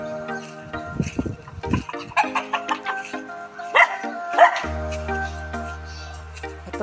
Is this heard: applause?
no